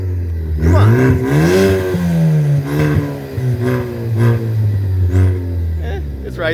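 A 2017 Ford Focus ST with a straight pipe from the cat back is revved repeatedly, the raspy exhaust note rising and dropping in several pulls, loud and close, with people talking between the revs.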